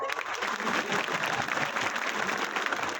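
An audience at a gathering gives sustained, loud applause, a thick continuous patter of clapping that lasts from start to finish.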